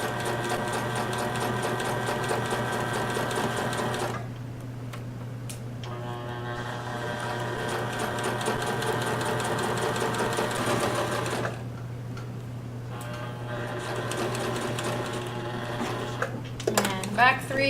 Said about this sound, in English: just sew as straight as I can down the top edge of that pocket